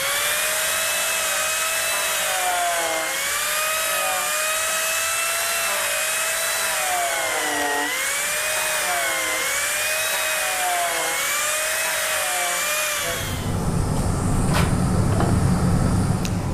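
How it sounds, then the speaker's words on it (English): A turbo power planer shaves wood for a homemade acacia wood chair. A loud, steady whine with wavering pitch runs for about thirteen seconds, then a rougher, noisier burst of cutting follows at the end. "and now I'll go and plane it with the turbo plane."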